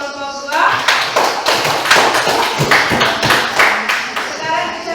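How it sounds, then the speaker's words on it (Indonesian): Classroom applause for a student discussion group: a dense, steady patter of many hands clapping together for several seconds, close and fairly loud, with a brief lull near the start. "Tepuk tangan untuk kelompok 2."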